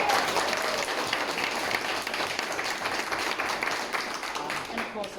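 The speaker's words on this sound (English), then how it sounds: "big round of applause for AcademyEX." Sustained audience applause at a ProductTank Auckland meetup on product managers and GenAI, a dense, steady wash of many hands clapping that fades slightly toward the end.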